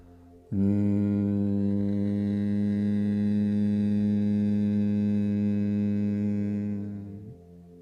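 A long, steady, deep hum held for several seconds, starting abruptly and fading at the end, a voice imitating the buzz of a bee.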